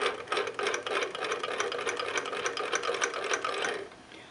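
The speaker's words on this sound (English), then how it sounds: "a swirling motion counterclockwise will lock the box" A wooden Heron's puzzle box is held upside down and swirled counterclockwise, its internal levers rattling in a fast, steady clatter that stops abruptly near the end.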